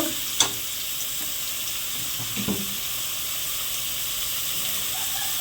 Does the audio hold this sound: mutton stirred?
yes